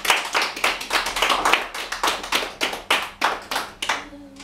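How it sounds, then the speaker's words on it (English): Delegates at a Model UN session clap in a short, fairly even burst of separate hand claps in an indoor hall, the claps thinning out toward the end. "With the clear majority, this resolution has passed. Clapping is in order"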